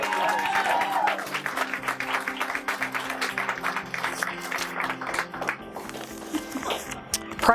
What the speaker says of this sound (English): can I have one more round of applause for all of these professional managers?